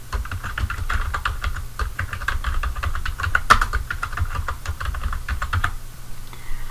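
Typing on a computer keyboard, quick irregular key clicks in a steady stream over a low background hum, close and fairly clear, stopping near the end.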